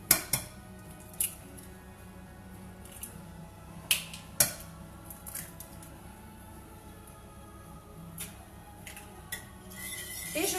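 Eggs are whisked into pear tart batter in a bowl, with faint utensil scraping and scattered sharp clinks against the bowl, fairly quiet and close, ending in a brief busier rattle.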